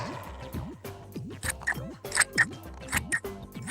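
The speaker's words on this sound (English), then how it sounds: "keep your card folded and cut out your shapes" Scissors snipping through folded card in a children's craft setting, a series of short crisp cuts at close range, loud and alone, with a voice humming tones alongside.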